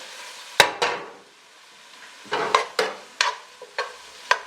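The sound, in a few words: stirring thyme and black pepper in a pot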